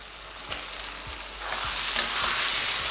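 Onion, ginger, garlic and chopped tomato fry in a pan for eggplant bharta, a close, crackling sizzle with a few soft stirring knocks, growing louder and hissier toward the end.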